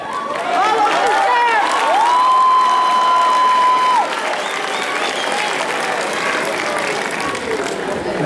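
Applause from the audience at a male cosplay contest at Expo Comic Ichiban 2011 rolls on for a contestant, loud and continuous, with shouts and one long held cry riding above the clapping.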